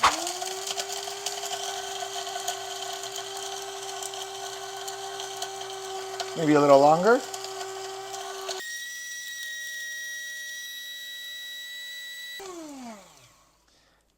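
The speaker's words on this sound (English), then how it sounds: "In the coffee grinder, you're going to hear it grinding them up really good." A small electric coffee grinder grinding eggshells whirs steadily at a high pitch, briefly rising in a rough burst midway, then a thinner motor tone runs before winding down to silence. A short spoken remark is heard.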